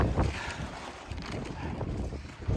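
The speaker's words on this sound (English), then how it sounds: "how bad the wind is here" Strong outdoor wind buffeting the microphone, a continuous loud rumbling roar with gusty swells across the whole stretch and no other clear sounds.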